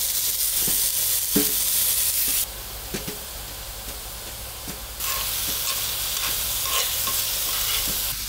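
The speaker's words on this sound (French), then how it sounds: "Et on va faire revenir les champignons à feu vif pendant 2-3 minutes." Mushrooms sautéing in a pan over high heat, producing a loud, close, continuous hiss and sizzle, with periodic scraping and tapping from a stirring utensil and no speech.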